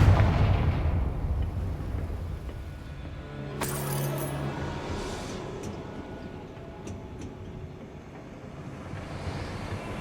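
A Confringo blasting spell explodes in the video game Hogwarts Legacy, a loud booming blast that opens the clip and rumbles away, followed by a second crackling burst midway over a continuing low rumble.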